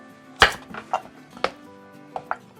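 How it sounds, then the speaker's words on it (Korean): A knife cuts potatoes in half on a cutting board in a home kitchen, giving a few sharp, close chopping knocks spaced irregularly, the first loudest, with quieter taps afterward. "감자는 이제 2개, 반을 잘라주고"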